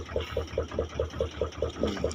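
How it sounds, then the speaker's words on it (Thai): Steady running water with a soft gurgle, pulsing in a regular rhythm about every quarter second, fairly close and moderately loud, at night where fishing lines are set. "ตอนนี้น้ำไหลอีกแล้วครับ"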